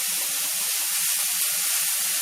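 Onions sauté in a pan with salt added, giving a steady, close hiss and sizzle that carries on evenly without a break.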